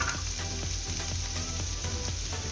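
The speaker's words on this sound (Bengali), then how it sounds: "অল্প একটু পেঁয়াজ জাস্ট একটু ভেজে দিচ্ছি" A small amount of chopped onion fries in fresh oil, giving a close, dense, continuous sizzle with faint crackles and no talking.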